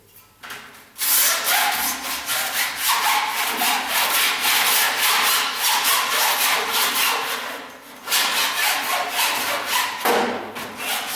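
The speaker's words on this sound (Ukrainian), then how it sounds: "за допомогою напилка стираємо залусеницю" Steady, rapid rasping of a hand file deburring a metal workpiece, loud and close, pausing briefly twice before resuming the same rhythmic strokes.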